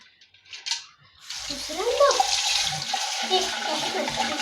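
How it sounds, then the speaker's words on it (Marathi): Water pours and splashes steadily as a clay water pot is rinsed, close and continuous after a moment of quiet handling. "तर आता हा परत आपण व्यवस्थितपणे विसळून घ्यायचा आहे"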